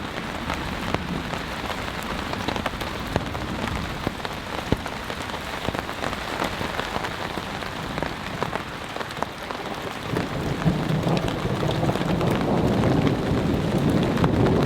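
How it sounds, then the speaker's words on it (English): Heavy rain drums steadily on a surface during a thunderstorm at a flooded campsite, a dense continuous downpour with low rumbling beneath that swells louder toward the end. "It's still raining out there."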